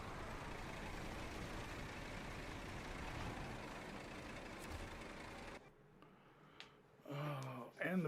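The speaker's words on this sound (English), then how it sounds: "And the big rig comes" Heavy engine rumble of a big rig truck driving in the video game Snowrunner, a loud steady drone for most of the stretch before it cuts away, then brief talking near the end.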